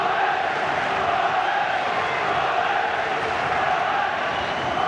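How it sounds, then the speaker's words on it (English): A football stadium crowd at a Reading versus Leicester City Championship match produces a dense, steady roar, loud and sustained with no break. "Well, it's got the crowd going."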